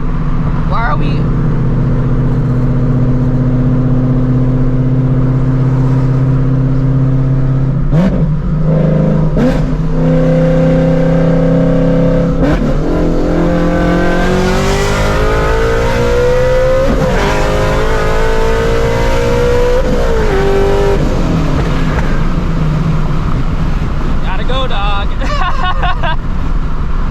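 A 900 hp Shelby GT350 revs hard and accelerates, its loud engine note climbing and falling through repeated pulls and gear changes, close and continuous for the whole stretch.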